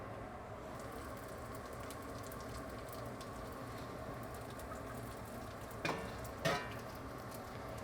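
Dried shrimp fry in oil in a wok with a steady, even sizzle all the way through, and two sharp clattering stirs rise above it near the end.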